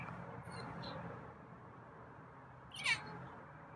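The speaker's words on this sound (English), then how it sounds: "It's a different meow." A single short feral cat meow, fairly close, rising out of a quiet room hum near the end.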